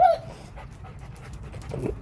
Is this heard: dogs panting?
yes